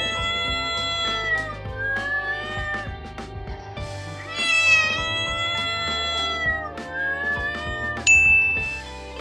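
A cat meowing repeatedly, drawn-out and wavering calls in a rapid series, some rising into louder, whining cries, close and clear.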